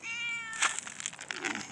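A cat gives a drawn-out meow at feeding time, close and clear, followed by rustling and small clattering sounds.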